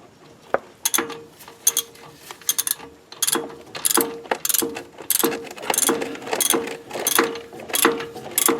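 Socket wrench ratcheting bolts loose from the 8-inch rear differential of a classic Ford Mustang, with bursts of rapid clicking pawl strokes separated by short pauses, close and fairly loud, no talking.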